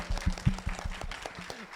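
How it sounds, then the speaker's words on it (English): Audience applause at a voice acting panel, a short burst of clapping from a crowd with uneven, overlapping claps that hold steady for under two seconds. "Big round of applause."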